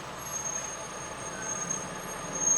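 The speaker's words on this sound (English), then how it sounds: "One of the most iconic little trains is a diesel railbus." A diesel railbus at the Oxenhope station of the KWVR heritage railway gives off a steady, low engine rumble and hum that swells slightly toward the end, heard alone with no talk.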